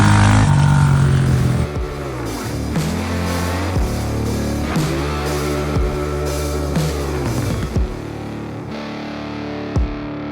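A Honda CRF110 pit bike with a big-wheel build ridden over rocky, slippery loose dirt, its small engine revving up and down repeatedly in loud close bursts with gear-change dips throughout.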